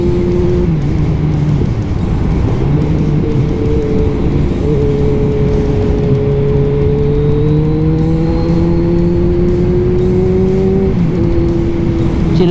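Motorcycle engine on a steady chill ride from Vigan to Bangued, a continuous close droning hum with rising and falling pitch as the rider shifts and changes speed, loud throughout with no talk.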